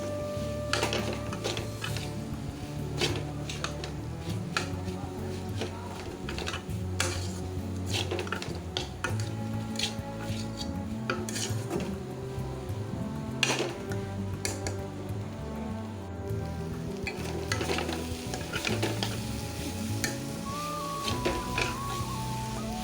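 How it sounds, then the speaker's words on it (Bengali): A spatula stirring food in a frying pan during festival cooking, giving steady metallic scraping and clinks against the pan, repeated continuously at close range and fairly quiet over a faint background hum. "আমি নাড়তেই আছি খুন্তি দিয়ে, নাহলে নিচে লেগে যাবে।"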